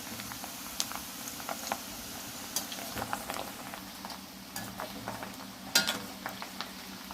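Cauliflower florets roast in a pan over a medium flame, giving a soft, steady crackle with scattered light taps and pops of stirring throughout, fairly quiet and with no voices.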